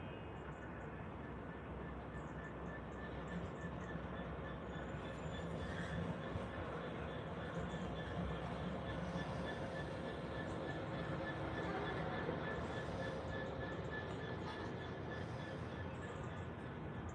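A train on a driver route-training run from Arpley sidings to Carlisle rumbles past in a steady, broad roar that holds for the whole stretch, with faint squealing tones above, and no clear talk.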